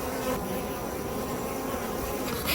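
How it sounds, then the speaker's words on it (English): Honeybees buzz densely around an opened summer hive during an inspection, a steady close swarm drone with individual bees zipping past the listener. "If they did, they certainly left plenty of bees behind."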